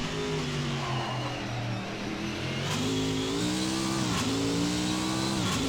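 VRC Pavey Longhood S race car in a racing video game at Cathedral Rock International Circuit, its engine revving and accelerating through gear shifts, pitch climbing and dropping repeatedly, loud and close with no talk.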